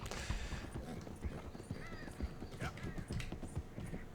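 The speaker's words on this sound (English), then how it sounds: "I'm just feeding the horse so it runs faster." Horse galloping in Red Dead Redemption 2, with steady quick hoofbeats running throughout at moderate level and a brief whinny partway, under ambient game sound and faint talk.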